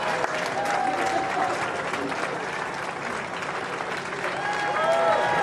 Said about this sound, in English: we will hear a great roar from the crowd